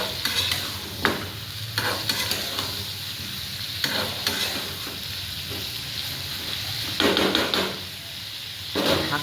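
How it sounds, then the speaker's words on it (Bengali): Eid mutton curry being stirred in a sizzling pan, lightly spiced: a steady frying hiss with occasional scrapes and knocks of the spoon against the pan, close up and alone. "আবার এটা নাড়াচাড়া করে দিব।"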